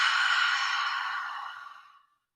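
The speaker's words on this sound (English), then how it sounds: "Take a big inhale, big exhale. All the same as the beginning, through the mouth as you exhale." A long, slow exhale through the mouth during a yoga breathing exercise, a single close, breathy whoosh that fades gradually to silence.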